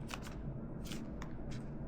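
Several quick riffle-shuffles of a tarot card deck, short papery bursts repeating in close succession against a low steady background hum.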